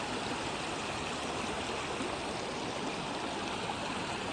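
The Narmada river flowing strongly with high water, heard as a steady, dense rush of moving water, broad and continuous at moderate loudness with no voices over it.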